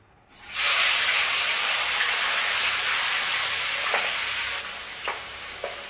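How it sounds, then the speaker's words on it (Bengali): Turmeric-and-salt-coated fish slices hit hot oil in a pan and burst into a loud, steady sizzle with spattering hiss, tapering slightly near the end with a few sharp pops and utensil clicks. "প্রচুর ছিটকাচ্ছে মাছগুলো, সে পাবদা মাছের মতো"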